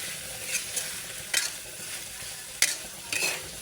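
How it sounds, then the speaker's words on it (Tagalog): Tofu sisig (tokwa) frying in a pan and being stirred, a steady close sizzle with several sharper scraping strokes of a spatula against the pan, no voices. "Haluin natin kasi baka masunog."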